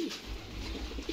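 Pigeons coo softly close by in a loft in Azad Kashmir, low throaty murmurs repeating over a faint steady background.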